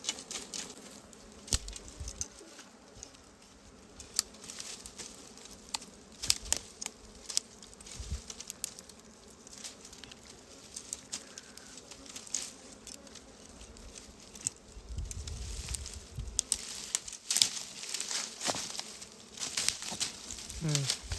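Honey bees buzzing around a small honeycomb in a village, a faint, steady insect hum broken by scattered crackles and rustling, with occasional voices nearby.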